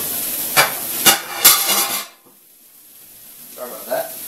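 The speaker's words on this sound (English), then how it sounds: "you can hear the beef is getting all ready to go" Ground beef sizzling in a pan, with a few sharp knocks of a spatula against the pan over a frying hiss, then near quiet before faint sizzling returns.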